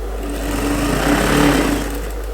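A sewing machine runs a single steady burst stitching a women's suit, the motor whirring close up and swelling slightly midway before easing off, with no voices.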